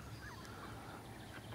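Ducks and other waterfowl at a pond in Taufkirchen, a few faint honking calls over a steady outdoor background hiss, heard from some distance.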